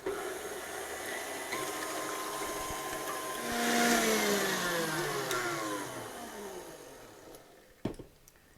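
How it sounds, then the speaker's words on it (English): An electric mixer whisks egg whites with cream of tartar to stiff peaks for an orange chiffon cake, a steady close whirring drone whose pitch slides and shifts as the speed changes, then stops with a clatter near the end. "I'm just going to whisk the egg whites until they're nice stiff peaks."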